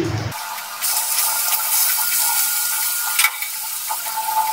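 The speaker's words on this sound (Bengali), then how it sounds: "এবার আমি মাছটা ভেজে নিচ্ছি।" Bhola fish pieces, cleaned and rubbed with salt and turmeric, frying in a pan with a steady, close hiss and sizzle that sets in suddenly and holds throughout, with a few brief crackles.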